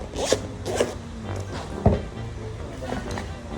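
A bag holding a Boya wireless microphone system is unzipped with several quick, rasping zipper pulls close by, along with light handling noises.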